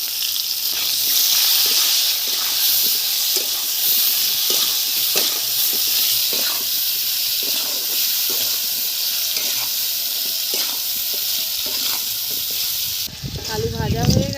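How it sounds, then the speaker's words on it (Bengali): Potato pieces fry in hot oil with salt and turmeric in a pan for a thin rohu fish curry, giving a steady, loud sizzle broken by regular stirring scrapes and clinks. "আলু দিয়ে দেব। একটু নুন হলুদ দিয়ে দিলাম।"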